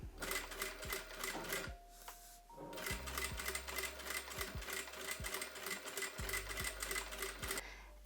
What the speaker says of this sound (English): I'm top stitching 7 millimeters from the edge